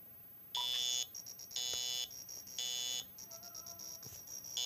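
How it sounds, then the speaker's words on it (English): A fire alarm with no strobe sounds in loud, repeating bursts of harsh electronic tone, each lasting about half a second to a second, separated by quieter stretches of beeping. "Weird fire alarm."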